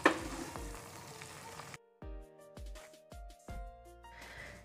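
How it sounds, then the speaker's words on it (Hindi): Pasta is tipped into a hot pan of spicy tomato masala, with a soft sizzle at first, then a series of distinct, close knocks and scrapes as a spoon mixes it against the pan. "अब इसमें पास्ता ऐड करेंगे, मिक्स कर लेंगे इसे।"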